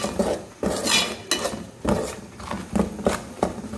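Gooseberry pickle being stirred with salt in a pot, a spoon scraping and knocking against the metal in repeated strokes, close and fairly loud, with no voices.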